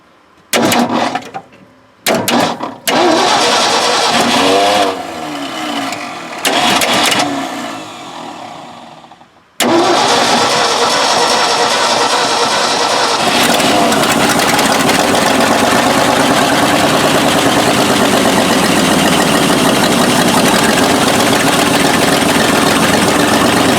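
A Ford F600 dump truck, fuelled through a carburetor and an added 12-volt fuel pump, cranks in several loud bursts, then fires and runs with a steady, loud engine roar.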